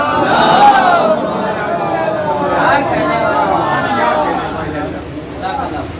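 Crowd at a Shia majlis chanting religious slogans in unison, a loud massed roar of voices that swells and holds for several seconds with dense babble throughout.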